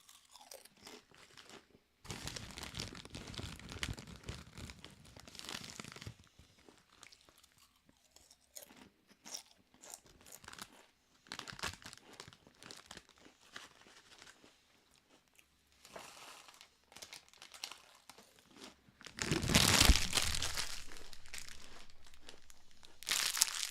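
Close crunching and chewing of potato crisps, mixed with crinkling and rustling of the crisp bag, coming in irregular bursts with one loud rustle near the end.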